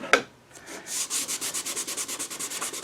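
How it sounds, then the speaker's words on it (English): Hand sanding on a wooden bedside caddy: one sharp knock, then a quick, even series of rasping back-and-forth strokes, close up. "we're going to do a couple more moves on the sanding"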